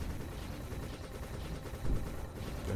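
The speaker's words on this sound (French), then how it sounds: "Les explosions des roquettes." Dense, continuous rumbling rocket blasts and crackling explosions pile on top of each other, loud and chaotic like heavy video game combat.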